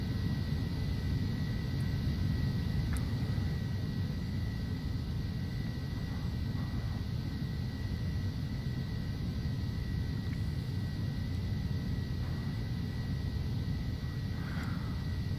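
Steady, droning low cabin rumble of a Phenom 300 jet holding cruise power at cruise altitude, constant and unbroken with a faint high whine above it and no talking.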